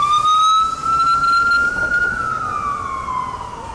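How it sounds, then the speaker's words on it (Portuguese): Emergency sirens from ambulances and police cars wail in Times Square, New York, in one loud, steady, sweeping tone that glides slowly up and down over the constant hum of the city. "é barulho de sirene de ambulância, de polícia, de construção"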